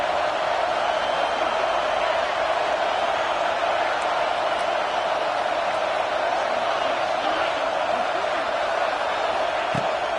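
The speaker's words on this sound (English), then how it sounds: "this crowd trying to help keep them there" A large football stadium crowd at an NCAA game keeps up a dense, steady roar of cheering and noise that fills the space without letup.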